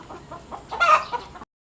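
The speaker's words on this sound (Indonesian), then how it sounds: "Itu adalah ayam-ayam yang siap dipotong" A few soft clucks build into a louder, squawking cluck from a chicken nearby, then cut off abruptly.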